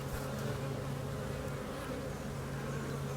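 Honeybees hum at an open hive, a close, continuous buzzing drone that stays even and unbroken, with no talk.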